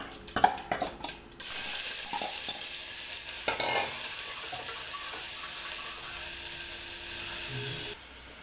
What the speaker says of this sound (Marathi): आणि लगेच कांदा पण टाकून घेते